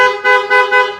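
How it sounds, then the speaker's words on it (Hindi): Hella brand car horn fitted to a modified Tata Sierra sounds loud and close in three rapid honks, a bright steady electric tone with no talk over it. "हॉर्न हमने इसमें ऐड किया है, मैं ऑन करके दिखाता हूँ आपको भाई"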